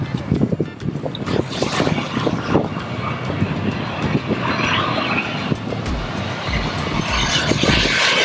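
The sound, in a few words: jet airplane landing overhead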